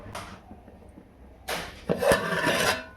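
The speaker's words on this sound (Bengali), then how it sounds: "এবার আমি ঢাকনাটা দিয়ে দেবো।" A metal lid goes onto a cooking pot of chicken fried rice with a short scraping clatter, close and fairly quiet, followed by a brief rattle as it settles.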